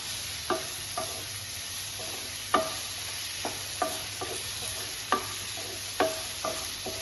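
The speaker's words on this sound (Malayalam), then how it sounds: "ഇതൊന്ന് ഉള്ളി ഒന്ന് നല്ലോണം ഒന്ന് വാട്ടിയെടുക്കാം." Onions and green chillies sauté in a pan: a soft, steady sizzle is broken by sharp spatula taps and scrapes roughly once a second, close by, with no one speaking.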